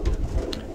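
Pigeon cooing in Santorini, a few soft, low coos up close against a steady outdoor hum, with no talk.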